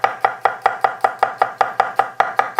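Garlic cloves are chopped with a knife on a board, a dozen quick, crisp blade taps in a steady, fast rhythm, close and loud with nothing else heard.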